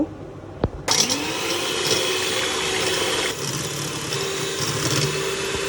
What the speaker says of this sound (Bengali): এটাকে এখন ভালো করে বিটারটা বিটে নিব